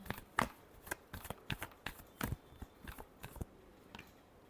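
Tarot cards are shuffled close up in a quiet room, giving a quick series of soft, crisp flicks and riffles spaced irregularly across a few seconds.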